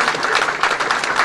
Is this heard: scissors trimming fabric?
no